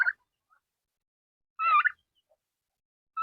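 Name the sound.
turkeys gobbling in a chicken coop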